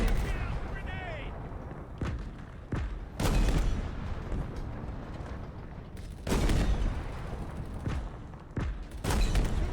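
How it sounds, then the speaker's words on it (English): Loud video game combat in Halo Infinite: a grenade explosion and repeated heavy gunfire blasts in bursts across the scene, with a voice speaking between them. "Grenade!"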